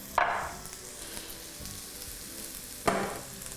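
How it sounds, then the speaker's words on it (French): Pears sautéing in butter in a pan: a soft, steady sizzle with two sharper hissing flare-ups, one near the start and one near the end, no talk. "je vais juste faire revenir les poires comme ça"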